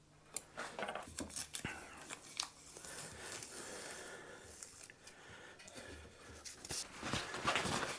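Tape being handled during a guitar build: quiet crinkling, tearing and sticking sounds with small taps and clicks, close and faint.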